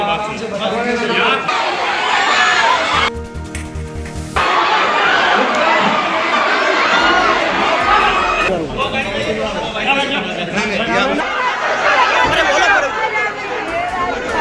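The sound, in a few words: angry crowd shouting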